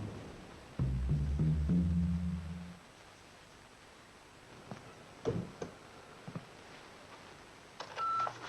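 Telephone keypad tones ring out in a short burst of dialling, followed by a quiet pause and a few faint clicks and a brief beep near the end.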